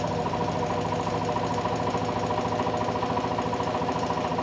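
A generator accelerating near 97 RPM gives a loud, steady mechanical drone with a fine rapid pulsing and a dense buzzing hum that hold constant throughout, with no talk.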